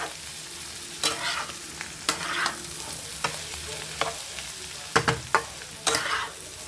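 Potato and egg fry in a pan with a steady sizzle, punctuated by repeated scraping clicks of a spatula stirring, close and fairly quiet.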